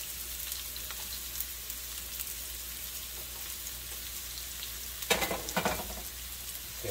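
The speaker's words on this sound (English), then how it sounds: "I'm gonna saute all that onion up." Onions sauteing in olive oil in a pan make a steady, fairly quiet sizzle that runs throughout, with a louder burst of crackling and scraping around the fifth and sixth seconds.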